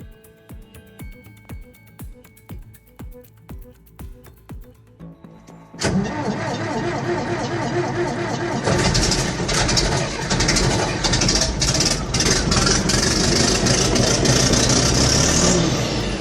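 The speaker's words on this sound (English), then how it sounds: "just listen to that engine roar" A tractor stuck in mud: a slow, ticking idle gives way to a sudden loud engine roar that swells and stays heavy and rumbling, revving near and strong.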